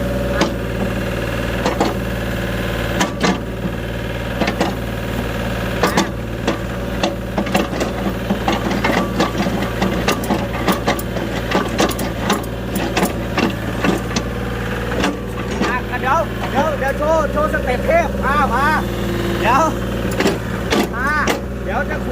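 A Komatsu PC30-7 mini excavator engine runs with a steady mechanical hum and briefly revs higher, under frequent talking and occasional clanks.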